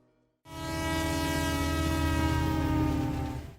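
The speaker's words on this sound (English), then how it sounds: "The Western Australian Government Railways W class. These are 482 steam locomotives" Western Australian Government Railways W class steam locomotive sounding a long, loud, steady whistle that starts abruptly and holds for about three seconds before cutting off.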